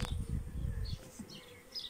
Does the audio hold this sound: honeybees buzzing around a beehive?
yes